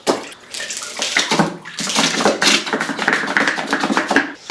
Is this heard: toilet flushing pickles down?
yes